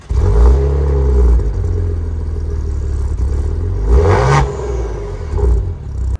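A 2020 Maserati Levante SUV with quad exhaust tips gives a loud, close engine roar. The deep note swells and falls through rev changes across the whole stretch, with no talk over it.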